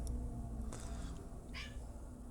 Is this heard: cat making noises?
yes